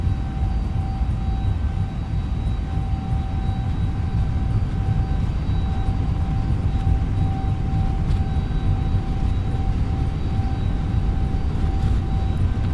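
Airbus A321neo engines at takeoff thrust in a flight simulator give a steady, loud, unbroken roar with a thin whine over it, with no voices.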